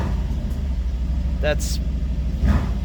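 A Mercedes GLC fitted with a Sprint Booster throttle module rumbles low and steady while the gas pedal is lightly touched, the engine swelling slightly near the end beneath someone talking.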